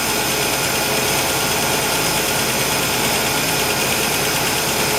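A 1965 Ford Falcon inline six engine idles steadily at close range, a continuous rough mechanical hum with faint ticking and no voices.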